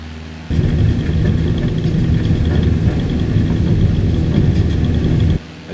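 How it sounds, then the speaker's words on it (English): A Cessna 152 engine at full power as the plane accelerates down a short runway, producing a steady loud droning roar for about five seconds with no speech. "Power applied, the 152 accelerates down the runway."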